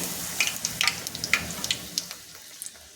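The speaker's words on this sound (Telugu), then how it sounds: "ఇప్పుడు పూరీ వేపేసుకుందామండి. పూరీ వేస్తున్నాను." Puri dough frying in hot oil, a close, bright sizzle with crackling pops scattered across a few seconds, fading slightly at the end.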